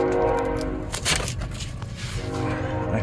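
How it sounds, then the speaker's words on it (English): A train rolls past with a sustained, loud horn blast that fades partway and swells again, steady rumbling wheels and rail noise underneath, heard up close outdoors. "Train."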